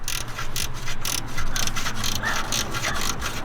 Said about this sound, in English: you're gonna want to be able to ratchet